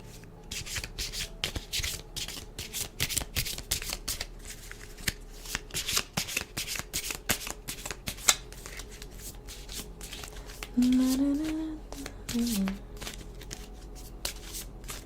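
A deck of tarot cards is riffled and shuffled in quick repeated bursts of crisp flutters, close and clear, with a brief soft hum in the background.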